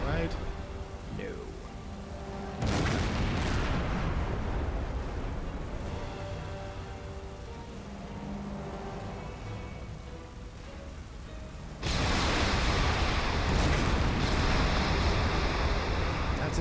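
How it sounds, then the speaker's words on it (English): Explosions rumble through a naval battle in the game Silent Hunter 5, deep booming blasts bursting in around three and twelve seconds over a continuous roar of sea and wind. "That's a lot of explosions going on."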